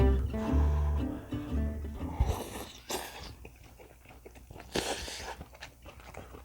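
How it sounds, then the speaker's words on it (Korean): Thin-sliced Korean pork neck (daepae moksal) is eaten up close, with soft biting and wet chewing sounds and a few crunchy bursts following a brief stretch of other sound. "대패목살 그냥 한번 먹어볼게요"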